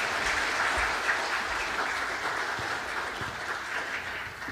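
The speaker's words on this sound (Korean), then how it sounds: "박수로 격려해 주시기 바랍니다." A church congregation claps together at a Sunday worship service, a dense, steady wash of applause holding for several seconds before easing slightly toward the end.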